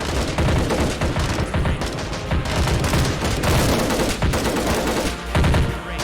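Battlefield gunfire and artillery in a battle simulation game, a steady barrage of overlapping rapid shots with heavy booming impacts mixed in, loud and continuous throughout.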